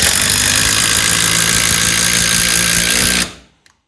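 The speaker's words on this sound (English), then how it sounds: "let's try out some of these deck screws again, and we'll see how well it does" A 12 volt impact driver fitted with a right angle adapter drives a deck screw: a loud, close, continuous hammering whine for about three seconds that stops abruptly, followed by a faint click.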